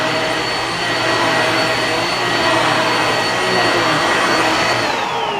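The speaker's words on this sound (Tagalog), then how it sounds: "yung mga dogs ko sa tunog nitong Genie vacuum" A Genie vacuum cleaner runs steadily indoors while a bedroom is cleaned, a loud constant whine and airy rush with a high tonal motor hum, close and alone without talk.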